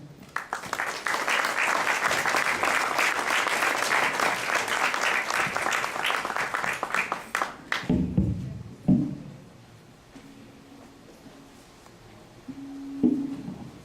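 Loud, sustained applause from a conference audience for a guest lecturer on cultural policy in Mexico lasts about eight seconds, then stops abruptly, leaving faint room noise and a few soft knocks.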